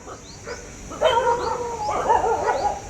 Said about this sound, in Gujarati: આ બધા કૂતરા છે